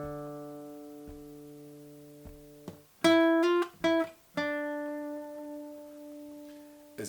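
Guitar playing a lead line with a harmony part at the end: sustained clear single notes, then a quick run of plucked notes and a held harmonized pair, close and alone.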